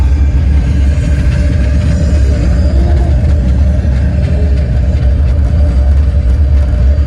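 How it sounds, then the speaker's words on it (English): Simulated rocket main-engine start and liftoff on the Mission Space ride at Epcot: a loud, dense, continuous low rumble with steady roaring texture, unbroken for several seconds with no voices. "We have main engine start."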